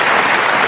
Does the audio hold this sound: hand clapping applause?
yes